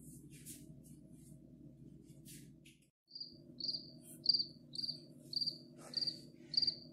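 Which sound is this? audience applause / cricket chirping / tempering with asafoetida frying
cricket chirping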